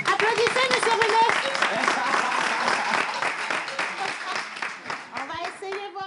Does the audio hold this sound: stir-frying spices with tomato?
no